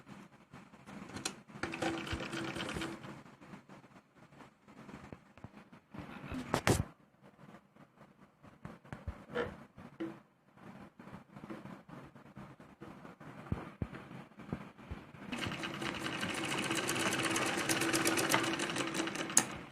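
Domestic sewing machine stitching pleats on a small girl's salwar runs in short stop-start bursts, then settles into a longer, steady whirring run at the end, with quiet handling noises between bursts.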